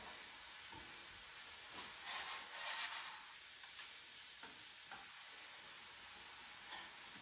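Dry orzo pasta being stirred with a spoon in a pot over low heat, a soft hissing scrape with a few brief louder swirls, faint and alone.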